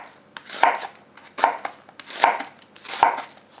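A knife chops through a red onion on a board in four evenly spaced, crisp strikes, each a sharp close thud with a brief scraping tail, and no voices.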